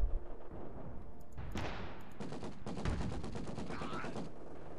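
Gunfire crackles through a Company of Heroes 2 battle: rapid machine-gun bursts and rattling volleys fill the second half, following a few scattered shots and thuds.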